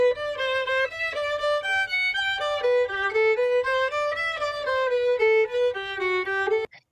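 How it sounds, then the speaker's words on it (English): Solo violin melody used as input for DDSP timbre transfer, a clear bowed line of sustained and gliding notes, close and steady, ending abruptly. "We've got a violin here and coming in at the input"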